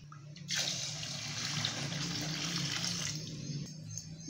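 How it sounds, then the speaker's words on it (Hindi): Steady stream of water poured into rice for chana dal pulao, a continuous splashing rush lasting a few seconds before tapering off, close and clear with no talking. "अब मैं इसके अंदर 4 कप जो है वो पानी लगा रही हूँ"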